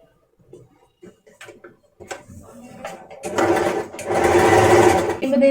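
An Usha Janome sewing machine starts with a few scattered clicks and mechanical ticks, then runs into a loud, steady stitching whirr for the last couple of seconds. A voice is faintly present at the start.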